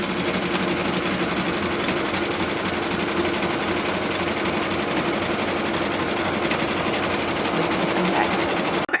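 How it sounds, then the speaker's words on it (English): An embroidery machine stitches a final seam line on a pin cushion, a loud, fast, steady mechanical chatter that runs on unbroken before stopping abruptly at the end. "I'm just going to kind of hold this in place while it stitches that final seam line."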